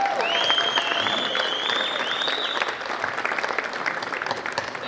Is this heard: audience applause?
yes